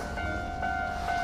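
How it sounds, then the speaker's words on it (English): A train passes close by in Tokyo with a steady rumbling roll and a sustained high metallic squeal from the wheels, fairly loud throughout. "let's wait for the train"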